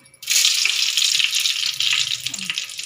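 Fenugreek seeds spluttering in hot oil, a loud, close, continuous crackling sizzle that starts abruptly and carries on throughout with no talk.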